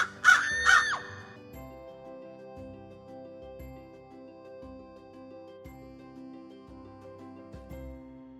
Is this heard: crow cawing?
yes